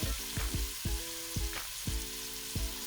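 Spoon stirring spices frying in oil for shahi daal, a steady sizzle under repeated sharp scrapes and clinks of the spoon against the pot, close and fairly loud.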